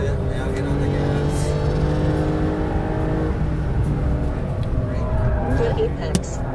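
Porsche Carrera GTS cabriolet on a race track, engine droning steadily and rising as it accelerates out of a corner, loud in the cabin with people talking throughout.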